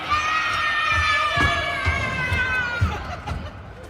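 Children scream and cheer at a 10U youth hockey game, a loud, continuous wash of high shouting voices in an arena, with a few sharp thuds and some chatter underneath.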